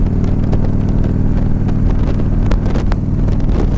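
A 20-year-old Harley-Davidson motorcycle engine idles loud and close with a steady low, lumpy throb and some wind buffeting over the microphone.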